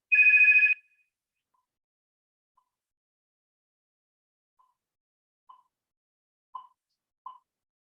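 A telephone gives one short electronic ringing burst, followed after a long silence by a few faint, brief tones and blips spaced a second or so apart.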